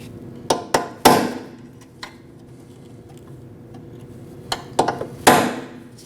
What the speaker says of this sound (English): So I just take a standard punch, make a mark on the washer and a mark on the cradle.